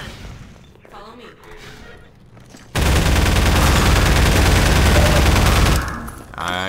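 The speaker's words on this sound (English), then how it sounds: "I was shooting all those shots in the wrong spot" Sustained automatic gunfire in Half-Life 2 erupts after a quieter stretch and rattles on loud and continuous for about three seconds, then cuts off; voices are heard in the calmer moments around it.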